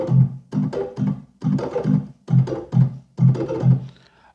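A reggae organ bubble shuffle pairs low left-hand notes with right-hand chops and slapback echo, a busy, bouncing pattern in close, loud groups of quick stabs without any voice.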